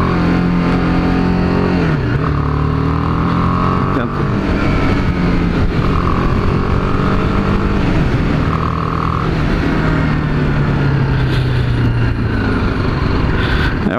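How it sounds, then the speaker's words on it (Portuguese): A BMW G 310 R, a small-displacement motorcycle, hums steadily while being ridden, its modest exhaust note rising and falling slightly through gear changes under heavy, constant wind rush. "Eu acho que a BMW podia ter investido um pouco mais no som do escapamento. Tá um sonzinho de moto muito de baixa cilindrada."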